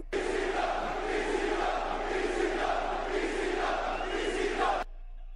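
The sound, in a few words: wrestling crowd cheering loudly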